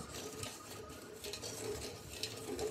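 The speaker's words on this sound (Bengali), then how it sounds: "খুব ভালো করে এটা মিশিয়ে দিচ্ছি।" Sugar and water being stirred together in a pan, a faint, steady scraping and light clinking of a spoon against the metal.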